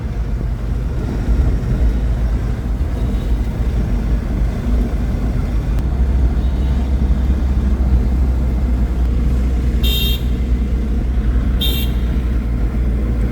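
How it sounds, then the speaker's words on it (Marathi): Heavy city road traffic at a busy circle, a constant loud roar of engines and tyres throughout with two short sharp car horn toots near the end. "फुल ट्रॅफिक होतं."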